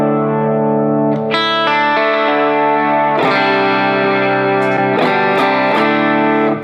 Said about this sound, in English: So right now that's just with only a compressor on my pedal board.